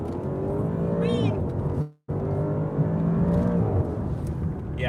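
A 2020 Maserati Quattroporte GTS GranSport accelerating hard in sport mode, its engine and exhaust droning from inside the cabin with a rising tone, a sudden brief drop-out around a shift, then climbing again.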